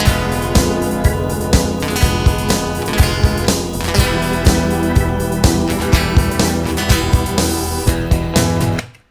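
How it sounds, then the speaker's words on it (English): Synthesized choir ahs in a soft, airy style blend into a loud, full bridge section of a band mix, with steady drum hits running throughout until an abrupt stop. "So I added some ahs, like a choir."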